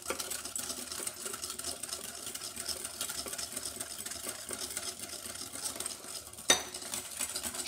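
A spoon stirs milk and cream in a saucepan warming toward a boil, giving soft, continuous scraping and clinking at a low level with one sharper knock near the end.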